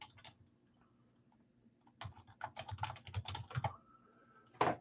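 Typing on a computer keyboard during a sports card break: a few light taps, then a rapid cluster of close keystrokes and a final louder clack, with no talk over it.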